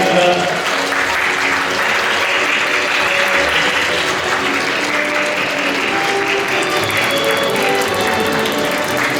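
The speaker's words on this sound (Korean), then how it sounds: "수고하신 양어머니 두 분께 일단 신품의 박수를 아낌없이 보내주시면 감사합니다." Wedding guests clapping during the ceremony at the Seoul Garden Hotel: steady, loud, sustained applause from a large crowd in a hall, with no break throughout.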